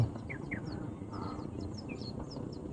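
Several short bird calls sound at middle distance over a steady low rumble of wind and a hovering drone, scattered chirps spread through the stretch near a bridge area.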